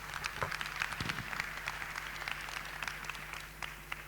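Audience at an urban-planning talk gives fairly faint applause for a speaker, with individual claps sharp and scattered over a soft, patchy bed of clapping.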